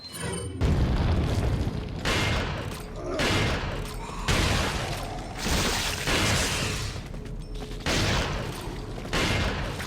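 Repeated heavy booms and blasts from grenade explosions in the video game Resident Evil 4, several loud broadband bursts in quick succession over a dense, sustained rumble of combat noise.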